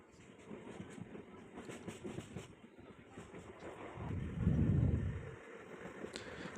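A train at KR Puram railway station in Bangalore rumbles faintly with some clatter, and a louder low swell builds near the end amid wind noise and distant background sound.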